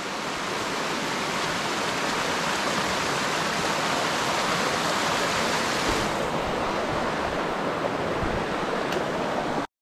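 A river flowing near a hillside campground with waterfalls, a loud, steady broadband rush of water that continues without pause, close by and alone.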